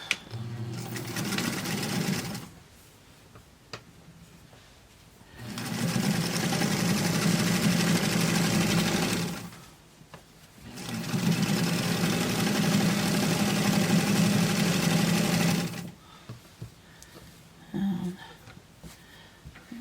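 A sewing machine stitches doll clothes in two long steady runs of rapid mechanical whirring, close and loud, separated by pauses with small handling noises.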